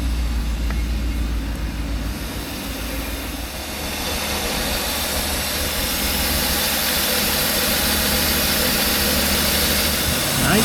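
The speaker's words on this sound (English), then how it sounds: "That's one quiet engine." A Mercedes-Benz 560SL idles after new injectors and an air flow sensor boot were fitted, giving a steady, even engine hum and whir with no revving, heard close up with no speech.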